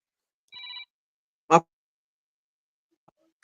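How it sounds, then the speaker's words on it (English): A phone gives a single short electronic ring tone, followed a moment later by a brief burst of sound, then near silence. "My phone ring again."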